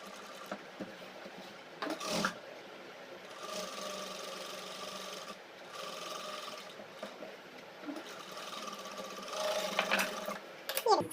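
A sewing machine runs a fine stitch along the seam of a pant, in short bursts of steady whirring separated by brief pauses, at moderate loudness close by.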